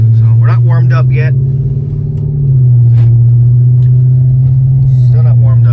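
A car sitting on lowering springs, not yet warmed up, gives a steady low engine and exhaust drone at normal driving speed in traffic, close and continuous, with a person talking over it.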